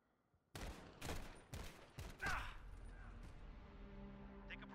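Gunfire in Call of Duty Modern Warfare during a 2v2 Alpha match: a string of four or five loud, sharp shots in quick succession, followed by a rumbling tail and low background hum.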